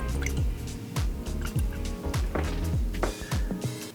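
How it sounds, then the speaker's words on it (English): Melted candle wax pours and drips into glass jars, with a steady run of small wet drips and splashes over a continuous background of liquid filling, close by and moderately loud. "You've got to be quite steady when you're pouring the wax."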